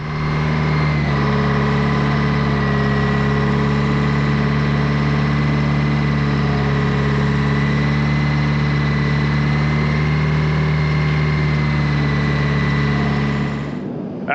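A vintage aircraft piston engine runs steadily at close range, a loud, constant low droning rumble with no voices, cutting off near the end.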